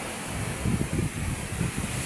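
Sea waves wash against a rocky shoreline beside a stone outcrop, a steady roar of surf with soft surging swells under wind noise on the microphone, continuous and fairly close.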